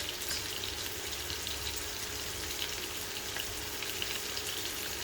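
Vegetables sweating in a frying pan for lo mein give a steady, even sizzle and frying crackle that stays close and constant throughout, with no voices.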